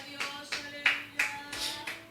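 Handclaps from a church congregation ring out in a slow, uneven beat, about seven distinct claps in two seconds, moderately close and fairly faint, with no talking over them.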